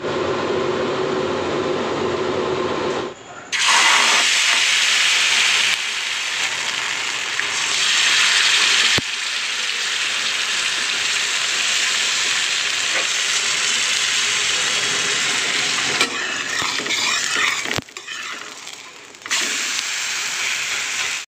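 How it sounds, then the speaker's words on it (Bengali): Paratha batter frying in a hot pan, a loud steady sizzle that carries on with a few brief breaks and shifts in intensity, with no talking. "এবার চলুন ফ্রাই করে নিই একদম লাল লাল ভাবে"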